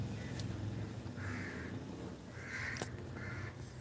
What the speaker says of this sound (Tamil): மேலே வேற காக்கா பறக்குது.